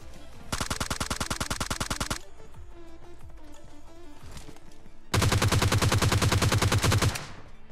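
Automatic gunfire in the video game PUBG Lite, two rapid, loud bursts of a couple of seconds each separated by quieter distant shots and game ambience.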